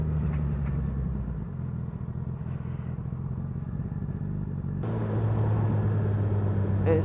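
Motorcycle engine cruising on a motorway as the throttle is released, a steady loud rumble with wind roar that drops slightly, then swells again near the end.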